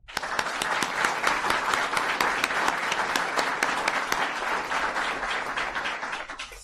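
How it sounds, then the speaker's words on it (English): A room of ICE employees breaks into applause at an event, many distinct hand claps close by forming a brisk, loud, sustained burst that holds strong and thins slightly toward the end. "I'd like to give him a round of applause."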